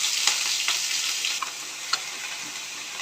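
Chopped ginger, garlic and green chili fry in hot oil in a heated kadai, giving a steady, close, hissing sizzle with a few light stirring taps.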